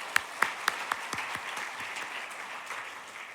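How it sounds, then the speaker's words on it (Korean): A church congregation at a Sunday seminar gives soft, scattered applause, with a few sharp claps standing out at the start over a faint crowd background. "박수로 격려하겠습니다."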